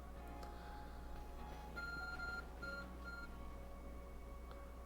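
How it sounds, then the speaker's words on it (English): An ARC phone in a Pokémon video game gives a short run of repeated electronic beeps, clear and steady over a soft hum with no voices. "Your ARC phone is beeping."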